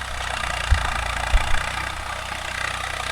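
Swaraj 744 FE tractor engine pulling a 9-point spring cultivator in dryland, a steady low rumbling drone with a few brief heavier thumps, close and continuous, with no talking.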